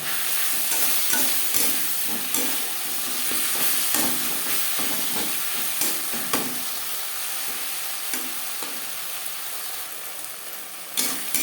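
Spiced masala with cumin powder stirred and fried in a pan: a continuous dense sizzle with repeated scraping strokes of a spoon at an irregular rhythm, close and fairly loud, no voices.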